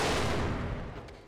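A gunshot in an online shooter game sounds as a loud, close burst with a quick decay, fading over about a second with no talk.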